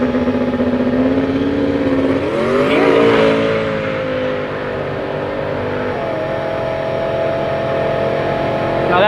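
A drag racing car engine pulls hard down the strip, its rising whine sweeping up and then settling into a steady drone, loud and continuous from nearby with no talk.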